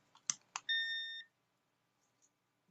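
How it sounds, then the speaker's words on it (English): A kitchen timer goes off during resin casting in petri dish molds, sounding one short, faint electronic beep after a couple of light clicks, followed by near silence. "All right, so the timer went off."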